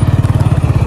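A motorcycle engine chugs in a loud, fast, even low-pitched pulse close by, with a faint clatter on top and no voices.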